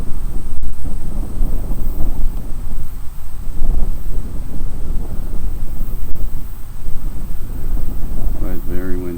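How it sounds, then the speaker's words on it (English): Wind roars steadily against the microphone while riding a Hawk DLX 250 motorcycle, a loud continuous rumble under the engine that lasts the whole stretch, with a brief voice near the end. "Oh, it's very windy."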